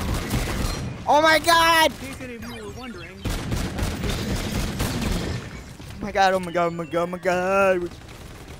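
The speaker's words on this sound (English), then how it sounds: "It's the best time to shoot him in the head." Bursts of gunfire in the video game Call of Duty: Zombies in Spaceland ring out between excited shouts, with game noise and effects around them.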